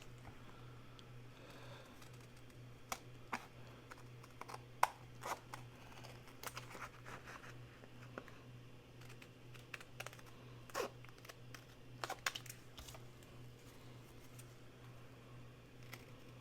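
Paper being trimmed around a tag shape with scissors, producing a scattered series of faint, crisp snips and small clicks at irregular intervals over a low steady hum, quiet and close.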